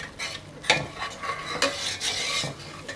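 Masala for pakora kadhi frying and being stirred in a pan, with a soft steady sizzle broken by sharp scrapes and clinks of a spoon against the pan, close and fairly quiet with no talking.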